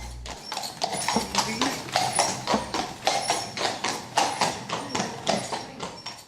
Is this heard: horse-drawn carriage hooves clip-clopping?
yes